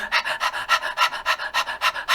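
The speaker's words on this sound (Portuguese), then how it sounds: "a termorregulação do corpo dos cães é feita pela respiração" A dog pants rapidly and steadily, about a dozen quick, even breaths in two seconds, close up with no voices.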